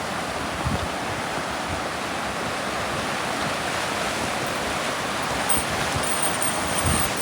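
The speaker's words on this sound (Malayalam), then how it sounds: "ഇത് വാട്ടർഫാൾസിൽ നിന്ന് വരികയാണ് വാട്ടർഫാൾസിൽ നിന്ന് വരുന്ന പിന്നെ ബർഫിൻ്റെ വെള്ളം" Icy snowmelt water pours down from waterfalls at Pahalgam in Kashmir, a loud, continuous rushing roar of a nearby stream that holds steady throughout, with no voices.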